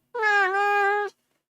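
A single loud, drawn-out cat meow right up close to the microphone, about a second long with a slight pitch dip midway, then silence.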